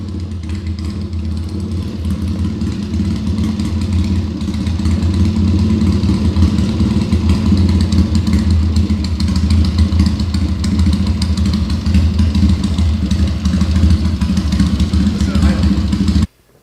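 A Triumph TT 750 factory flat-track racer once ridden by Gene Romero, set up as a street tracker, idles loudly nearby with a steady, lumpy thrum that holds without a break before cutting off abruptly at the end.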